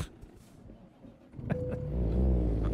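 A car races up fast along a road in American Truck Simulator, its engine swelling from faint to loud and close as it nears, ending in a steady roar.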